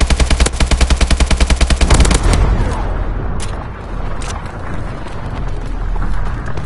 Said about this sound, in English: Enemy XS-1 Vulcan inbound.